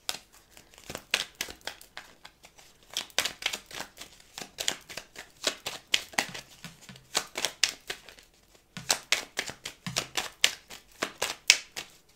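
A deck of tarot cards being shuffled by hand, rapid crisp riffling and flicking in dense bursts with a brief pause, close and steady, with no talking.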